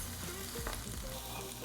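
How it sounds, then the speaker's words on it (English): Mushrooms fry steadily in a pan after being flipped, giving a continuous soft sizzle with a few brief scraping touches, close and even throughout, with no talking. "I'm just going to season them generously, give them a flip, and then cook them for another like 45"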